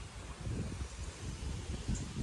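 Gusting wind rumbles and rustles outdoors in Konkan before a storm, a fairly faint, continuous low buffeting with leaf-like rustle and no voices.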